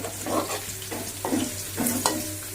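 Potatoes and carrots frying in oil in a pan for a pulao, stirred with a spoon, giving repeated scraping stirs over a low, steady sizzle, close and fairly loud, with no talking.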